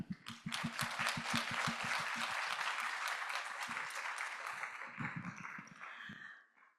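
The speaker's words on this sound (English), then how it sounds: "So please give a big round of applause to our wonderful panelists" An audience at a green finance seminar in Tokyo and London claps for the panelists, with dense sustained applause that swells briefly and then fades out near the end.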